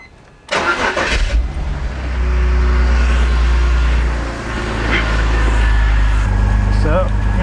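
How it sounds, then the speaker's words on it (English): A BMW E46 engine cranks and catches at about half a second, then idles and is revved up and down, its roar holding steady and loud with a dip near four seconds. A voice talks faintly underneath. "So now it's time to start the car."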